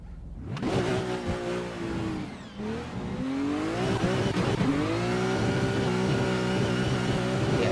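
Pro drift car in the Assetto Corsa racing game, engine revving high and loud with long rising and falling pitch sweeps as it slides through transitions, tyres squealing underneath, continuous and close with no talk.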